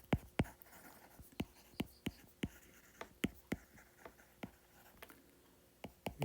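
Pen or marker strokes writing physics equations, a series of sharp taps and scratches in an irregular rhythm, close and fairly quiet, with no speech over them.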